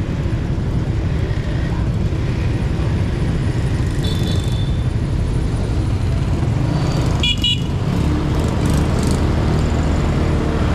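Busy road traffic in San Carlos, Pangasinan, with a constant engine rumble from passing vehicles and a few short car horn toots partway through, loud and close throughout.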